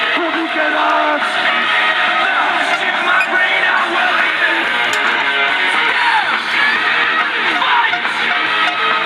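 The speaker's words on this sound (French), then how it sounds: "Mesdames et messieurs, un tonnerre d'applaudissements pour Dick Enoch." Wrestling event crowd at CWF Summer of Destruction 2016 roaring, whooping and shouting continuously throughout, a loud, dense wall of cheers with scattered yells, without a break.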